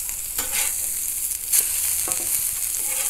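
Turkey burgers sizzle steadily on a Pit Boss table top griddle, a close, continuous hiss of frying with a few small crackles and scrapes.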